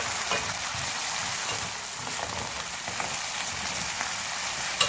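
Onion, ginger and garlic paste frying over a medium flame, a constant close sizzle and hiss with faint soft crackles and no pauses.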